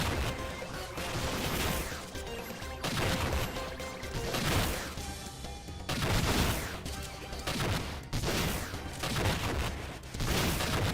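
Repeated loud blasts and crashing bursts in the video game Iconoclasts, roughly every couple of seconds, each booming explosion followed by a rumbling decay, with rapid impacts in between.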